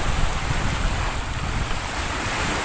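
Waves wash and splash against a high seawall along a baywalk in San Antonio, Bay, Laguna, making a steady broadband rushing noise mixed with wind buffeting the microphone.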